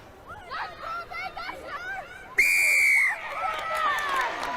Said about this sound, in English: Again, a loud blast in the whistle of Mary Pringle as Biggar get hands on the ball